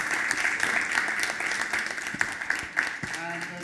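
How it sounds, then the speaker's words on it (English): Audience applause for two student presenters at an education workshop on learner agency, a dense steady patter of many hands clapping throughout, loud and close, with a few voices mixed in. "all of us, please, to give, not me, not Florian, but these two, a big round of applause"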